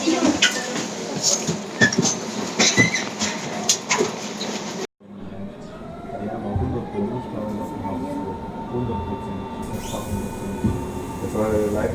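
Berlin S-Bahn commuter train underway, rattling and clattering at first, then a sudden cut to a smoother interior ride with a rising whine from the motors and steady rumble underneath.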